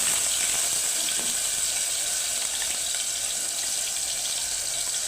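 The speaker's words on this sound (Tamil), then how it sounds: "வெங்காயம் பேஸ்ட் போட்டுக்கலாம்" Onion paste fries in a pan for chana masala, producing a loud, dense, continuous sizzle that stays steady and close from start to finish with no voices.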